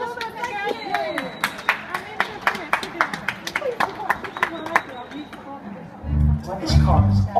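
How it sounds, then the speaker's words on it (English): Audience clapping in a theatre foyer before a Grease medley dance group performs, a lively run of close, sharp claps with crowd chatter, then music thumps in near the end. "let's give them a big clap"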